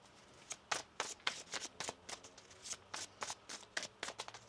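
Rapid, crisp riffles of a tarot card deck being shuffled, coming in quick repeated bursts close up, with brief pauses between them.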